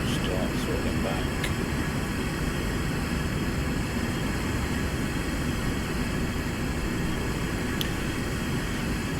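A SEPECAT Jaguar jet engine throttles back in a flight simulator game, a steady, loud broadband roar that holds evenly throughout with no distinct changes.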